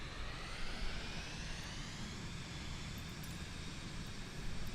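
A propeller aircraft engine roars at full throttle in Microsoft Flight Simulator, a steady, loud, dense drone that holds unbroken and close throughout with no talk over it.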